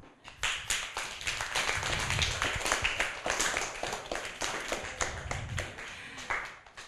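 Steady applause from a small television studio audience, dense clapping that keeps going for several seconds before thinning out at the end.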